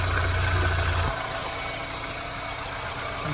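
Skoda Octavia 1.6 MPI petrol engine idling steadily while the catalyst warms up, heard close with a low, even hum; a louder rumble in the first second eases to a quieter, stable idle.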